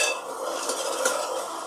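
A spoon stirs rajma gravy in a pan over a lit gas flame, giving a steady scraping swirl with faint clinks against the metal and a light sizzle underneath, close and continuous with no talking.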